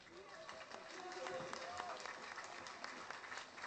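Crowd applause at a live Independence March 2012 event, scattered claps rising and holding as a moderate wash beneath a voice speaking over it.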